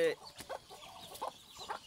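Small farm chickens clucking nearby in short, irregular bursts, with light background noise and faint voices.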